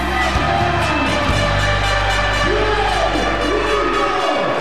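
A professional wrestling crowd roars for a newly crowned champion, a loud dense wall of cheering, whooping and shouting that stays at full volume throughout.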